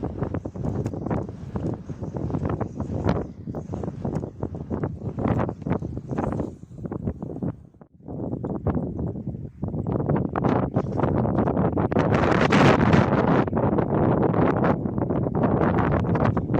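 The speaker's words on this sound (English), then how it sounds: "If it's really windy like it is today" Strong gusting wind buffets the microphone at a harbour during night fishing, with loud roaring bursts that rise and fall and then build into a sustained heavy rush.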